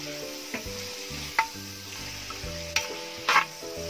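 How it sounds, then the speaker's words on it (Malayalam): A Kerala-style beef roast being sautéed in a pan over a wood-fire stove: a steady sizzle of frying runs throughout, broken by several sharp, close clinks and scrapes from a stirring spoon against the pan. "ഇതിനി നന്നായി വഴറ്റിയെടുക്കാം."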